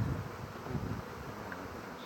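Honey bees buzzing steadily around an open beehive stacked with supers, a continuous close droning hum with no talk.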